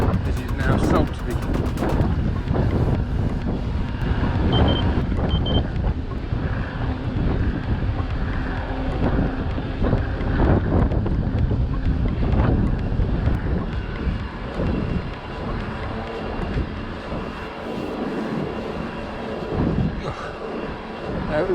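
A strong headwind on a practice lap of the Viking Challenge route near Salisbury roars across the microphone as a loud, steady, low buffeting that lasts throughout, easing slightly toward the end.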